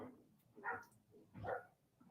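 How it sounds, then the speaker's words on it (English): A neighbor's dog barks twice in a slow, spaced pair, faint and distant against a quiet outdoor background. "That's a neighbor's dog."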